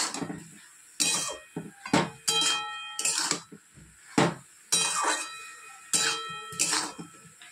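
Metal spoon scraping and clanking against a cooking pan as turmeric and cumin powder are stirred in, a series of sharp, fairly close clinks and scrapes in irregular bursts with no talk.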